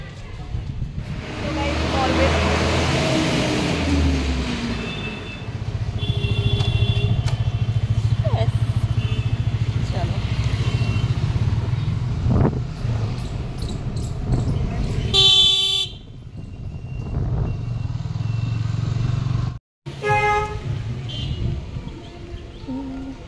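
Riding in a vehicle through Indian road traffic, with a steady engine and road rumble, passing horns tooting now and then, and someone talking over the noise.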